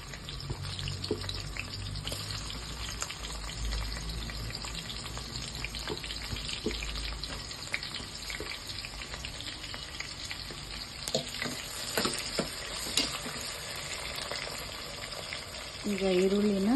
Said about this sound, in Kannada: ಈಗ ಈರುಳ್ಳಿನ ಕೆಂಪಗಾಗೋವರೆಗೂ ಫ್ರೈ ಮಾಡ್ಕೊಳ್ಳೋಣ.